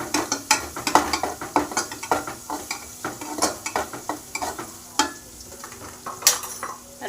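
Vegetables with turmeric and salt are stirred in a pan for veg pulao, with a spoon scraping and clacking against the pan in quick irregular strokes over a light sizzle, close and distinct, with no talk.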